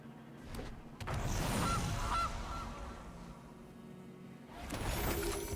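Goose honks from MTG Arena, a loud, close squawking honk with a rattling fowl tone, followed by quieter game effects and a second burst near the end.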